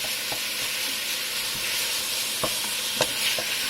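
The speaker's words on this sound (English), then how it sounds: "Until you break up your minced meat with your wooden spoon, and keep on stirring it until you see that your minced meat has been cooked." Minced meat with carrots and onions sizzles steadily in a pan, a constant close hiss punctuated by sharp clicks and taps as a wooden spoon breaks up and stirs the meat.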